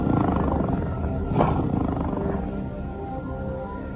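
A 500-pound tiger roars during a stage magic illusion, a single loud, rumbling roar swelling briefly near the middle over a dense, steady background din.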